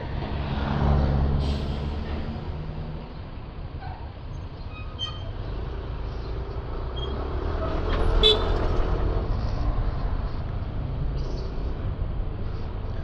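Road traffic heard from a moving motorcycle in Batangas, with a steady low engine and road rumble and a few short car horn toots rising above the traffic around the middle.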